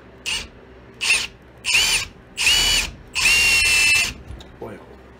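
A power drill bores through a copper pin in a hatchet head in five loud bursts of whining grind, each longer than the last, then stops.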